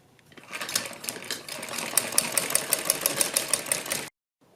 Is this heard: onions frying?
no